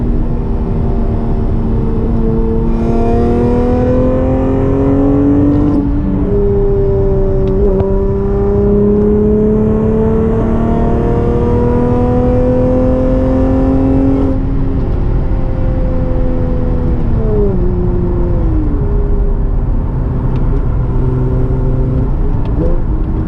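Engine of an Acura TL SH-AWD with a six-speed manual, heard from inside while driving: a loud, steady drone whose pitch climbs through the revs, drops at a shift, climbs again, then falls away as the car slows.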